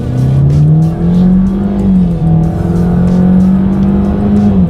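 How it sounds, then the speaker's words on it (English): A 2019 Ford Escape with a 1.5-liter turbocharged four-cylinder accelerates hard, its engine drone loud and close inside the cabin, pitch climbing steadily with a brief dip at a gear change. "Let's do a quick little acceleration test here and see how quickly we can get this one here up to speed"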